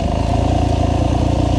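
A GAS GAS EC250F enduro motorcycle in first gear with the clutch out gives a loud, steady engine drone while riding, a continuous buzzing rumble close to the rider with no voices.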